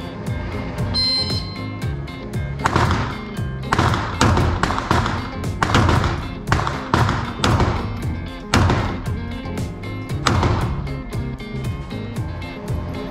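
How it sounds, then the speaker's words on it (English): Pistol shots in a timed GSSF shooting match ring out as a series of sharp, loud cracks spaced a second or two apart, with a few clustered closer together, and no talking between them. "5 shots, 15 seconds. Load and make ready."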